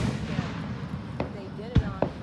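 Fireworks at a Fourth of July show: a few sharp, distant bangs at irregular intervals, fairly quiet, over a murmur of voices and background chatter.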